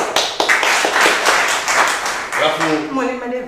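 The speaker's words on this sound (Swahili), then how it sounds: "Makofi nzuri." Classroom audience at a school gives a round of clapping, a quick run of sharp, distinct claps that fades out, followed by a person talking.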